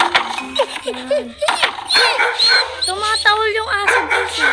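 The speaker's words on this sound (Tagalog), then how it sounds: "Tumatahol yung aso, guys." A dog barks and yips in the mobile stealth game Robbery Bob. Several short, sharp barks and whimpers come close and loud, mixed with someone talking excitedly over them.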